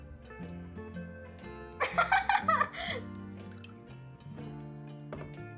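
Water pours into the side of a dish in a short splashing burst midway, set against quiet background tones and light drips, close and fairly soft.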